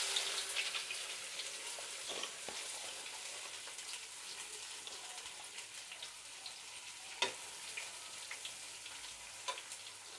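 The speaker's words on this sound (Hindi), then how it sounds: "प्याज को हम ब्राउन होने तक भून लेंगे" Onions fry in a pan of oil with large and small cardamom and cloves as the base for a spiced soybean curry: a steady, close sizzle and crackle with occasional louder pops and stirring, and no talking.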